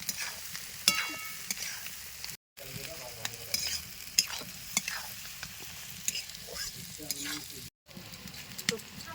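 Onions frying over a lit stove for chicken kasha, hissing steadily while a spatula scrapes and stirs them in the pan, with brief gaps in the sizzle.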